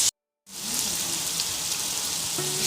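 Small onions sautéing with salt in a pan give a steady, close hiss of frying after a brief moment of silence, with a gentle crackle throughout.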